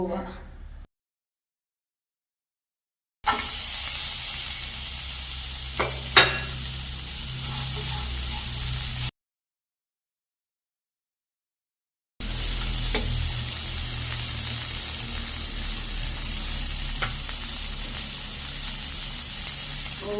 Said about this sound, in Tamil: இது கிழங்கு நல்லா ஃப்ரை பண்ணியாச்சு